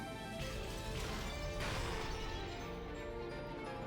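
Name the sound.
knocking, crushing and smashing sounds in Umineko visual novel game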